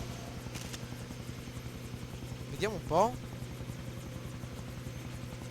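A helicopter in the video game Far Cry 3, its steady rotor thump and engine drone running throughout, with a voice speaking briefly and a pair of sweeping whooshes passing midway.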